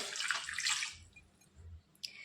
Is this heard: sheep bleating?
no